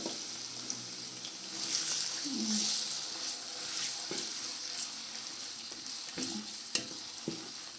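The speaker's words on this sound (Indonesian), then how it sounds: "lalu kita tumis sampai dia wangi" Spices being stir-fried in a pan for an Indonesian fish gulai, a soft steady sizzle with occasional scraping stirs and light clinks, close and alone.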